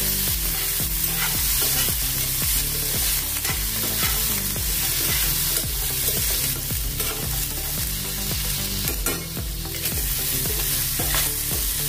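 Ginger and red chili being stirred in a hot oiled pan, with a continuous sizzle under rhythmic, close spatula scrapes repeating roughly every second.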